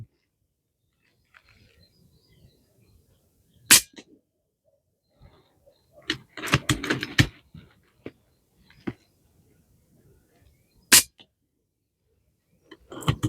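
An FX Impact M4 air rifle fires from its magazine: two sharp, isolated cracks stand apart, with a short burst of clicking and clatter between them against a quiet background.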